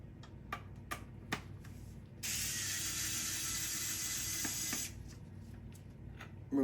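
A screwdriver removes three Phillips screws from a Samsung SDR-5100 DVR. A few sharp ratchet-like clicks come first, then a steady, close rushing mechanical noise lasts a couple of seconds before more scattered clicks.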